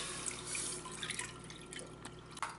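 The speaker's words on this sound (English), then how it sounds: "I'm gonna add the milk onto this pot." Milk poured into a pot on medium heat for Afghan rice pudding, a steady splashing, trickling liquid stream up close, with a few brighter drips and no voices.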